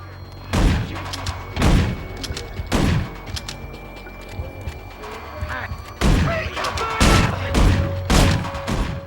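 Gunfire in the video game Manhunt rings out in repeated sharp bursts, a dozen or so loud close shots spaced irregularly over steady background tones, with brief talk between some volleys.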